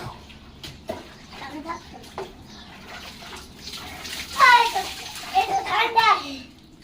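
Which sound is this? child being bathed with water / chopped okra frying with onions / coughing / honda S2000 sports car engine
child being bathed with water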